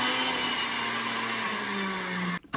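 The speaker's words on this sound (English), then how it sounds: "I'm about to throw this in the blender" A blender whirs loudly and steadily at close range, its motor pitch shifting slightly before cutting off abruptly near the end.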